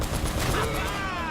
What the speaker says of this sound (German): Wow, das war ein guter Schuss.